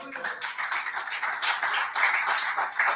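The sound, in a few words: congregation applauding in church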